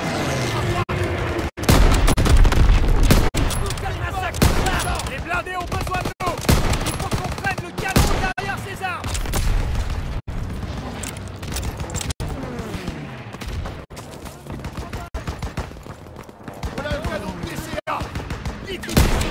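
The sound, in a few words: anti-aircraft gun firing in Call of Duty WW2 video game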